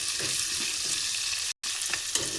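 Onions fry in a pan with a constant soft sizzle and a few gentle stirring scrapes, broken by a momentary dropout of sound.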